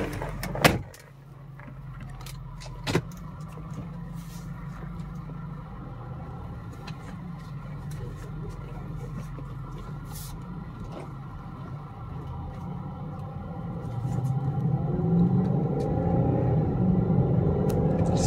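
A 2003 BMW X5 4.6is on a drive, heard from inside as a steady low engine and road rumble that swells toward the end, with a couple of sharp clunks near the start.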